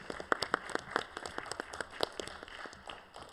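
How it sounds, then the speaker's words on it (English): Scattered applause from an audience of a panel discussion on faith and ethics after COP23, individual claps distinct and fairly faint in a quiet room, tapering off toward the end. "can I have a round of applause for our wonderful panelists?"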